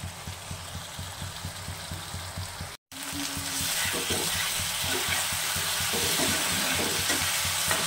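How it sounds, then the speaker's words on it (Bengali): Spice paste frying in oil in a pan for a spicy amudi fish curry with onion and garlic, a steady sizzle with scraping stirs, briefly cut silent near three seconds, then louder and denser until the end. "আস্তে আস্তে আস্তে আস্তে করে কষিয়ে নেব।"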